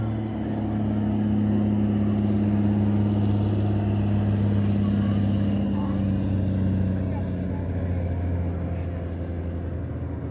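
Cessna 185 bush plane coming in to land at a Valdez STOL competition, its propeller engine droning steadily and loudly throughout, with a commentator talking over it.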